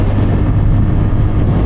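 A TVS Ronin 225 cc motorcycle engine drones steadily while riding at cruising speed, a loud continuous low rumble mixed with wind rush, with no talking.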